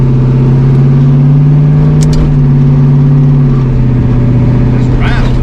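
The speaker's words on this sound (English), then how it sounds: "This rattle is going to drive me bonkers, though." A Mustang engine idles steadily with a low, continuous hum, broken by a couple of brief metallic rattles or clicks near the middle and end.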